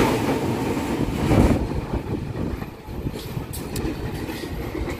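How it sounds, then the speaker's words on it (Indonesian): A service locomotive runs past Pondok Jati station in Jakarta, heading from Pasar Senen toward Jatinegara. A loud, steady rumble of wheels and rail clatter stays close throughout. "ada lokomotif dinas nih dari Pasar Senen ke arah Jatinegara masuk Depo Cipinang"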